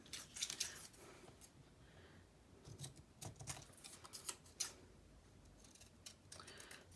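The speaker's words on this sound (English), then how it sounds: "I'll just cut this out real quick." Scissors cut out a paper print in a quiet room, a close series of crisp snips and rustles coming in irregular bursts with short pauses between them.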